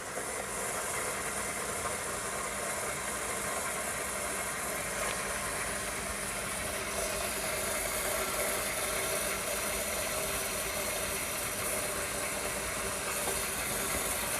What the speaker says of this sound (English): now the machine is trying to prepare the milk ready for latte art